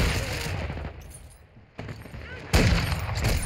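Bursts of automatic gunfire from the video game Call of Duty MW2 crackle in loud rapid volleys, fading briefly before a sharper, louder burst returns.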